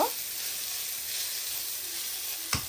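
Cooked rice stir-fried with vegetables for pineapple fried rice, a steady close sizzle and hiss from the pan, ending with a single brief scrape.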